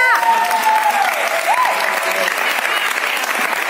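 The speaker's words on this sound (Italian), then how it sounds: "ma vogliamo fare un applauso alla regista?" A theatre audience at a Sister Act musical event applauds the director, sustained dense clapping from a large crowd while a voice talks briefly over the start.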